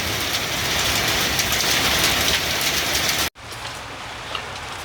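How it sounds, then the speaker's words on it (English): Heavy, steady hiss of hard precipitation pounding down, loud and unbroken, cutting off suddenly before a quieter stretch of the same drumming continues. "It's sitting out here in a hailstorm."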